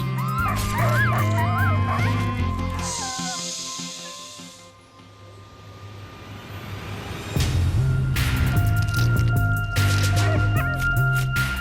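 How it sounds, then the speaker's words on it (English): Sled dogs whimper, yip and howl in a high, wavering chorus, then fall quieter before a burst of excited barking and yelping from several dogs nearby; no speech. "The sled dog is an animal created and relied upon by us."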